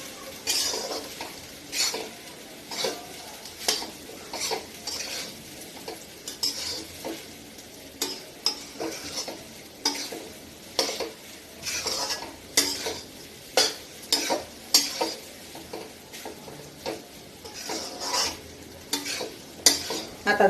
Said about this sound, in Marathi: आता झालाय आपला भात परतून